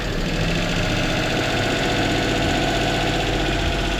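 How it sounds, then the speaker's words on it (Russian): Car engine idling with unsteady, wandering revs, a continuous low rumble with slight knocking vibration, steady and close throughout with no talk. "вообще как попало ставит обороты холостые"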